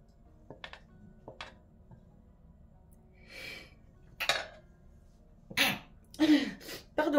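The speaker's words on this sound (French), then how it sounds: "j'éternue, ça c'est le poivre" A sneeze set off by pepper while cooking endives with ham in an air fryer, a few sharp bursts near the end after quiet kitchen clinks and light breathing.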